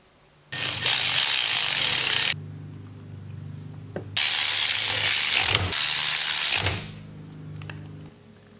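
Ratchet wrench driving bolts into an Atlas 4-speed transfer case housing, heard as two long bursts of dense, rapid ratcheting clicks at close range, split by a quieter gap with a few soft knocks.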